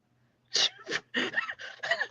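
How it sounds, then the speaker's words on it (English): A single loud sneeze, followed by a few short breathy gasps and sniffles close to the mic. "I'm going to sneeze."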